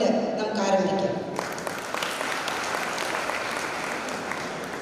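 An audience at a government college graduation ceremony gives sustained applause for the graduating students. The clapping is dense and fills the room, and a voice speaks over the first second.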